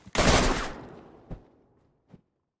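Gunfire in DayZ: one loud shot with a long echoing decay, then two fainter, more distant shots spaced about a second apart.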